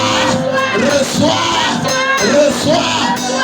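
Church congregation at a worship service cheering and acclaiming together, a loud, sustained crowd of voices rising and falling in waves.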